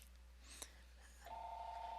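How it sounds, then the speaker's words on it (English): A phone rings faintly in the background during a Google Voice call, a steady electronic tone starting partway through after a brief click. "you'll hear the phone ring here in the background"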